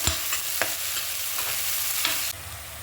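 Onions sizzle steadily in a pan after salt goes in, a dense close frying hiss with a few sharp clicks of stirring; no one speaks, and the sizzle drops a little near the end.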